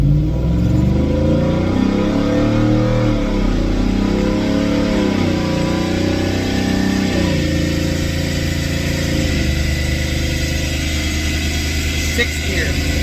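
A Ford F150 with a Gen 3 10R80 transmission roars on a dyno, its engine loud and continuous as the revs climb and drop through gear changes, with a steady whine over the top.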